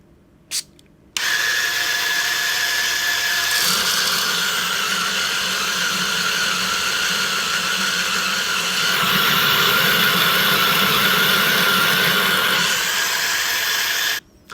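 A loud, steady motorized whir and grinding hum from a coffee grinder grinding beans runs continuously for over ten seconds after a click, then cuts off abruptly.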